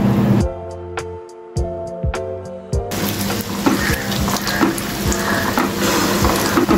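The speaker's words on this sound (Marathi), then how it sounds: "याच पद्धतीने बाकीचे कोफ्ते पण आपण तळून घेऊया" Paneer malai kofta balls deep-frying in hot oil, opening with soft ticking and clicks before a loud, steady crackling sizzle takes over and continues close by, with no voices.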